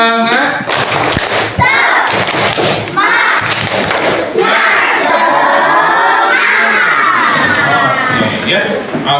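Schoolchildren in a classroom perform a loud clapping chant, shouting in unison over sharp rhythmic claps and thumps, their voices rising and falling in a lively group cadence.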